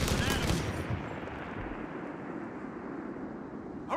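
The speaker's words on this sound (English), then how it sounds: "Taking ground fire!" Gunfire erupts in a Company of Heroes 3 World War II battle at Terracina in Italy. A loud, dense burst of shots opens the clip, then fades into a sustained, rumbling din of distant combat before a final sharp crack.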